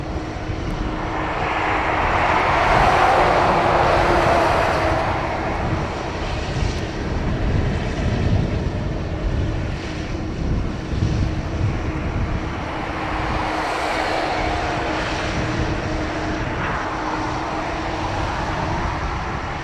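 Etihad airliner EY46 departing Dublin Airport for Abu Dhabi: a loud, sustained jet engine roar that swells, holds steady and carries on at close range.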